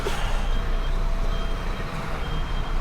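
A heavy truck backs into a parking spot, its reversing alarm beeping steadily over the loud, close rumble of the idling diesel engine, with no talk.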